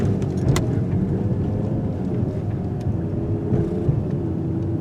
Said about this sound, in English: we're going to take some mild speed humps around 20 miles per hour to see how the suspension performs on impact